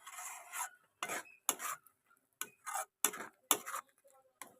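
Pointed gourd mash being stirred constantly in a pan, a series of quiet, regular scraping strokes of a spoon against the pan bottom separated by brief pauses.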